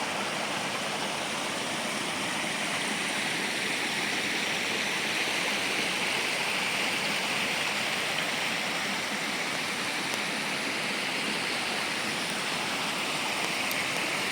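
Water of Khardu Khola flows through an intake dam in a continuous, dense, even rush, with no pauses or voices.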